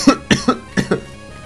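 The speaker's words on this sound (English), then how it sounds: "Bloody cough." A short fit of coughing, five or six sharp coughs in quick succession, close and fairly loud, with no talking.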